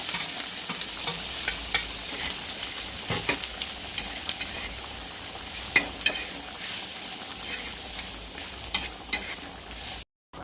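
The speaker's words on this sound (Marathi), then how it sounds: "आता आपण आहे ना ही ठेचा आहे ना तळून घेऊयात" Sesame thecha frying in a spoonful of oil, a steady loud crackling sizzle with occasional scraping stirs, close and uninterrupted until a brief cut near the end.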